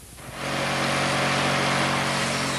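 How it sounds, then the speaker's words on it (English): An 18-horsepower masonry saw with a diamond blade cuts wet, its loud steady whine rising within the first half second and holding constant throughout, with no voices. "This is an 18-horsepower saw with a diamond blade in a wet cutting operation."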